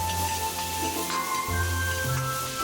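Ginger, garlic and green and red bird's-eye chilies stir-frying hard in a hot wok with a little lard, a steady close sizzle with scraping of the spatula, no talk.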